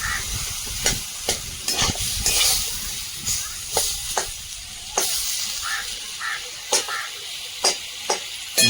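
Chopped onion and chilli fry with boiled potatoes in a pan, a continuous close sizzle broken by repeated sharp scrapes and knocks of a stirring utensil.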